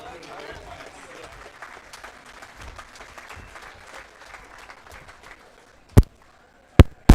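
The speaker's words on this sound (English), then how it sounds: "Let's give everybody a nice round of applause." An audience at a county fair sheep and goat show claps in a scattered round that fades after about five seconds, with a speaker's voice over a PA, then a few loud thumps.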